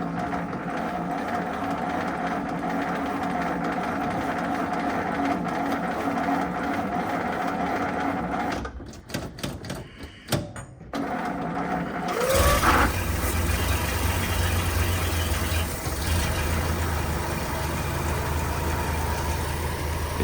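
A 1925 Stanley Steamer truck runs with a steady, smooth mechanical hum that briefly breaks up midway, then returns fuller and louder with a deeper low rumble.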